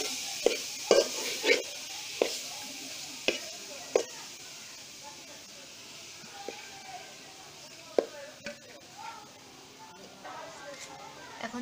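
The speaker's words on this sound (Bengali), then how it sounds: "এখন আমরা চুলায় একটা হাঁড়ি নিব, হাঁড়ির মধ্যে নারকেলের বাটা দিয়ে দিব।" Coconut paste cooking in a pot for coconut burfi, heard as a quiet, faint sizzle with irregular scraping taps from a spoon stirring it, mostly clustered early, and a voice faintly present underneath.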